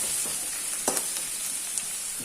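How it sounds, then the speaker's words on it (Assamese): Onions fry in a pan for a chicken curry, giving a continuous bright sizzle with a few sharp crackles and pops, close and steady with no talking. "পিঁয়াজখিনি মই ফ্ৰাই কৰিম 5 মিনিটমান"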